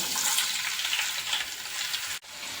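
Long strips of fresh ginger sizzle and fry steadily in hot oil in a pan for a fish curry, with a continuous bright crackle and one brief sharp break near the end.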